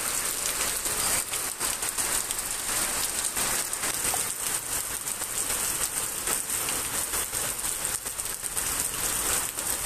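Heavy rain pours down after a long hot spell, a dense and loud steady hiss of drops hitting surfaces that continues unbroken throughout.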